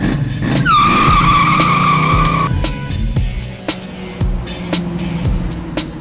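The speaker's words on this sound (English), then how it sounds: "Now that we're finished, let's take our Camaro for a ride." A 1967 Camaro fitted with a TREMEC TKO 600 transmission driving off hard, a loud tire squeal rising and holding for a couple of seconds, followed by engine rumble and road noise.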